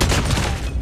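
Gunfire in Call of Duty Mobile, a loud, dense burst of shots that fills the whole moment without a pause.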